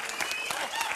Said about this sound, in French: Yann qui me rejoint sous l'applaudissement.